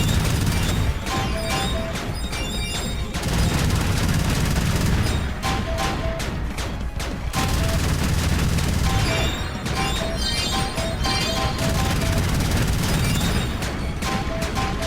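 Shots fired at the player during a boss fight in the Wii game Kirby's Epic Yarn, heard as repeated bursts and booming hits mixed into loud, steady game music, with no talking.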